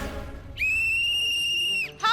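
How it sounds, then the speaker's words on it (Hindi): A single shrill whistle is blown for half time, held steady for just over a second, followed by a short second blast, with faint voices around it. "अरे हाफ टाइम हो गया, सीटी बजाओ।"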